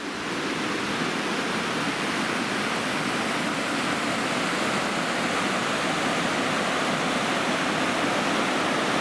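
Tuolumne River rushing through the Grand Canyon of the Tuolumne, a steady, dense roar of flowing water that stays loud and unbroken throughout, with no voices.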